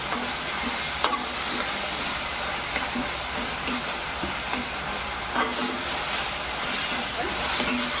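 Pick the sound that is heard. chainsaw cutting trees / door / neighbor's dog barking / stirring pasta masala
stirring pasta masala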